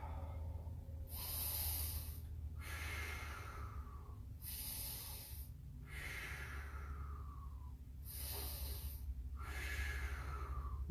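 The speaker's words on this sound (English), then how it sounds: "Take some nice breaths." Deep, deliberate breaths during an exercise warm-up, with long audible inhales and exhales repeating in a slow, even rhythm, close and clear over a low background hum.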